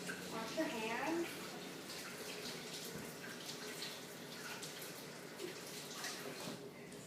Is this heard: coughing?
no